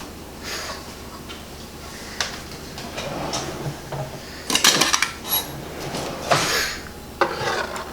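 A bowl is taken out in a home kitchen, giving scattered clinks and clatters of dishes and a drawer-like knock, close and moderately loud, with no talk.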